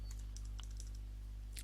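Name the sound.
typing on a computer keyboard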